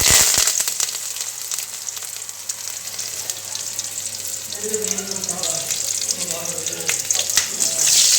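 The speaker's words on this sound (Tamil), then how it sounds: "இப்போ வந்து கடாயை வச்சு எண்ணெய் ஊற்றிட்டேங்க நம்ம வந்து தாளிச்சிடலாங்க இஞ்சியும் கருவேப்பிலையும் போட்டுடலாங்க" Ginger and curry leaves are tempered in hot oil in a kadai, a loud, bright crackling sizzle that stays steady and close, with a brief murmur of speech toward the end.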